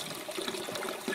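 Water from an aquaponics bell siphon floods out in a brief, steady gushing trickle, close and fairly quiet.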